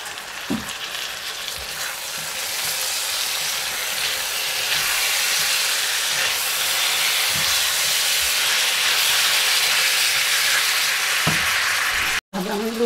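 Tomatoes cooking in a pan with mixed seafood and chili, a continuous close sizzle and hiss with occasional stirring scrapes.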